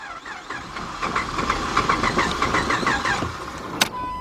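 A 2005 Chrysler 300 with the 2.7 engine cranks repeatedly without catching, a steady rhythmic starter churn for several seconds, close and loud, ending with a sharp click.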